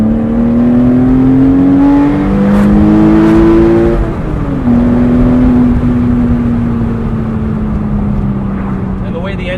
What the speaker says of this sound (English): the way the engine revs up,